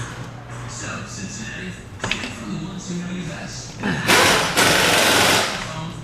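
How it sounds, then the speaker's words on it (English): Air ratchet on transmission bolts of a 2006 Ford Taurus AX4N, with short bursts of rapid mechanical chatter followed by a longer, loud hissing buzz near the end, close to the listener. "Probably need my air ratchet."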